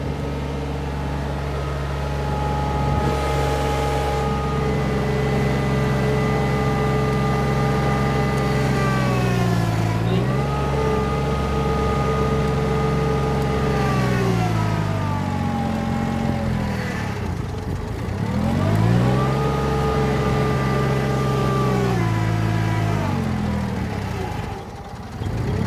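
A 20 horsepower tractor engine pulling a subsoiler runs continuously at close range, a loud steady drone whose pitch repeatedly dips and recovers as the load bogs it down, with no talking.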